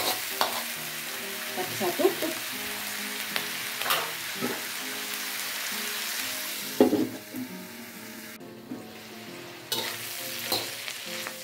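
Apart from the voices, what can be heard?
stir-frying bitter melon with salted fish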